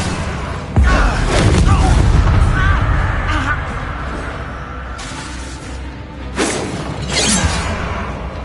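A fire spell cast in the Hogwarts Legacy video game bursts out with a loud whooshing blast and crackle, then fades. A second burst follows later, with other game effects in the background.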